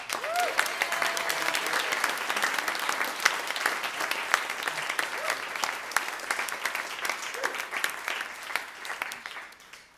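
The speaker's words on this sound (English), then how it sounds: "let's just have one more round of applause" A lecture audience claps together in a steady, dense round of applause at a book event, sustained for about ten seconds and tapering slightly at the end, with no talking over it.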